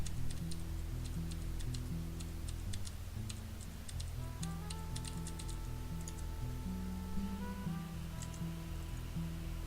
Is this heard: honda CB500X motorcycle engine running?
no